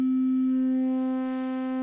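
An Arturia Synthi V synthesizer sends a sine wave through its waveshaper. It sounds as one loud, steady sustained tone with a strong fundamental and a stack of distorted harmonics, heard alone without voices.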